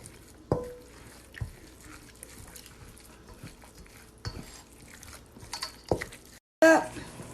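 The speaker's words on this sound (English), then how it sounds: "grab my Swanson's chicken broth, crack this open, and I'm going to pour it a little at a time" Swanson's chicken broth goes a little at a time into a homemade chicken dressing, heard as faint, close trickles and drips broken by occasional sharp clinks of utensils against a dish.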